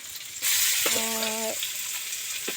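Chicken pieces frying in hot oil in a pan, a loud steady sizzle that swells in after a brief quiet start and holds broadband, with a short clinking stir in the middle.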